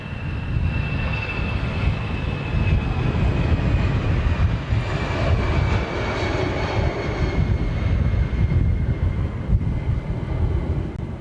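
An Air China Airbus A350 airliner at London Heathrow Airport, facing a strong headwind, gives a loud, steady jet engine roar that holds evenly throughout, close and with no voices.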